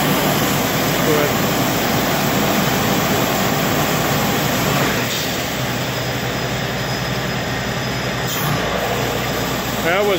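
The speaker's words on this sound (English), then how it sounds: "That was valve open and valve closed." A high-pressure trailer-mounted water jetter rated at 4,000 PSI and 25 gallons a minute roars steadily as water rushes through its valve, with a brief shift as the valve opens and closes; a voice is heard over the noise.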